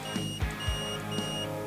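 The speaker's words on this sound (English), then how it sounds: "we get a beep, because the bare wire is connected directly to that base plate" Multimeter in continuity mode beeping as its probes touch the bare ground wire and the base plate of a guitar pickup; a steady electronic tone with repeated low thumps, no speech.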